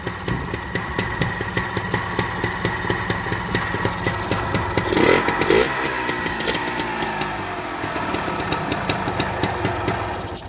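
A Suzuki two-stroke motorcycle engine idles steadily with a fast, even popping pulse, briefly revving slightly midway before settling back to idle.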